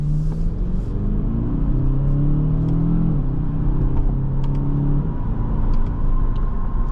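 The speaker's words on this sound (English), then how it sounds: "This is a really nice car to drive." A 2022 Kia Stinger GT-Line hums steadily from inside the cabin as it drives and accelerates, with a low engine rumble and a rising tone that shifts with the gears and no talking.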